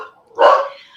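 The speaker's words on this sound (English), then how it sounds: "And that's my dog being not at all helpful on a Marketing Monday." A single dog bark rings out close and loud, a short sharp woof with a brief faint lead-in, in an otherwise quiet room.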